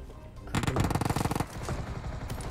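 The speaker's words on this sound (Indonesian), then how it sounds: "Waduh, udah ada yang nembak." Rapid bursts of automatic gunfire from a shooter video game, a loud dense volley of evenly spaced shots followed by scattered quieter shots and action noise, with no talk.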